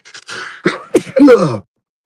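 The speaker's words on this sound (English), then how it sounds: "excuse me, I'm going to sneeze." A single close sneeze, with a few sharp breathy bursts building into a loud explosive release, then silence.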